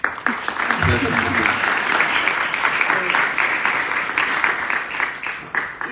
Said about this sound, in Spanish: Y ya que me aplauden